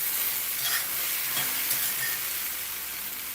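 Potatoes frying in a pan until crispy, a steady close sizzle with light stirring, no talk.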